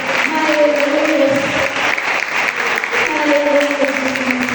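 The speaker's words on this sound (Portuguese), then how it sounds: "Você pode aplaudir esse Deus para mim." A church congregation applauds steadily, a dense, loud wash of many hands clapping together, with a voice speaking faintly underneath.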